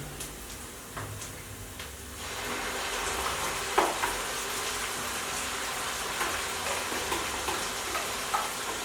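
Tomato paste going into a pot after onions for Nigerian jollof rice gives a steady frying sizzle that starts about two seconds in and holds at an even level, with a few faint knocks and stirring sounds.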